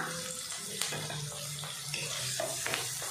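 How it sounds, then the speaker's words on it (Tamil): Onions and tomatoes sizzle steadily in a hot pan for mutton gravy, a constant hiss with occasional clicks and scrapes of stirring close by. "வெங்காயமும் தக்காளியும் நல்லா வதங்கணும் நல்லா வதக்கிடலாம்"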